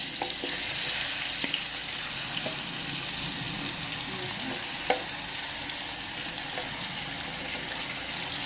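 About 1.5 kg of chicken fries in a pot for a malai boti handi, giving a continuous close sizzle. Occasional scraping stir strokes knock against the pot.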